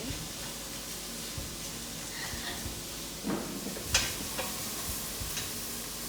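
Chicken stir-fry with mushrooms stirred in a pan, a soft continuous sizzle with a few faint scrapes and clinks of the utensil, quiet and close, with no talk over it.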